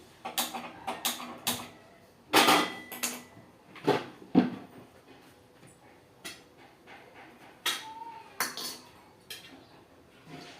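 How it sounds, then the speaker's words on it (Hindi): A brass kadhai set down on a kitchen stove, a series of close metallic clanks and clatters with scrapes between them, irregular knocks of metal cookware in a quiet home kitchen. "ये मैंने रख रही हूँ पित्तल की कढ़ाई"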